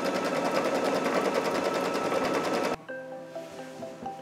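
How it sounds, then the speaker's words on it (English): An embroidery machine stitches out a pattern in a multi-hoop setup, its fast steady needle rhythm loud and continuous before stopping abruptly, leaving a fainter tonal whirring and beeping afterward. "now that first pattern is stitched out"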